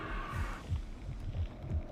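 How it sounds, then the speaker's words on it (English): A slow, muffled heartbeat throbs inside the alien hive in the video game Aliens versus Predator Classic 2000, about four low thumps at an even rhythm under a faint ambient hum. "you hear a heartbeat in the hive."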